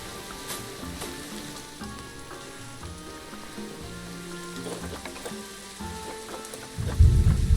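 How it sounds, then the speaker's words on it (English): Steady rain patters and hisses beneath soft tonal music in the game Planet Zoo, and a deep rumble swells near the end. "Because it's still raining."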